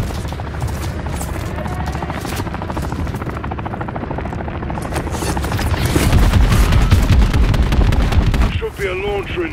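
A helicopter in Call of Duty Modern Warfare 3 gives a loud, continuous rotor roar under bursts of gunfire and distant booms, swelling louder toward the end, with radio voices talking over it.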